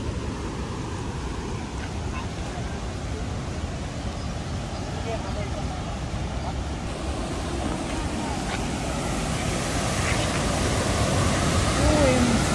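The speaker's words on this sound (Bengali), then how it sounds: "এত স্রোত জলের, এরকম কখনো দেখেছো?" Heavy monsoon floodwater surges through open dam gates at Tenughat in Jharkhand, a continuous loud roaring rush with wind buffeting the mic and a voice speaking over it.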